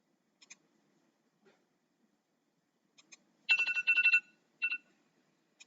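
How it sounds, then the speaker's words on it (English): A phone alarm ringtone plays short chirpy electronic bursts, faint at first, then a louder run of rapid beeps and a few more scattered tones. "That's my alarm telling me I need to go to the bus stop"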